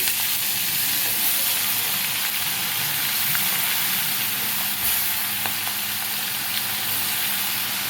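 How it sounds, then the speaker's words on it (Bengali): Prawns frying in a pan give a loud, continuous hissing sizzle, with steady spitting and crackle throughout and no voices. "তো এবার দেখো, চিংড়ি মাছগুলো আমি ভেজে নিচ্ছি।"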